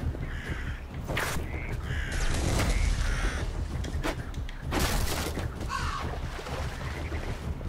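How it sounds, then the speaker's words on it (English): Birds caw repeatedly in the video game Vikings: Wolves of Midgard, harsh calls rising over a dense layer of game effects and rumbling background sound. "Hate these effing birds."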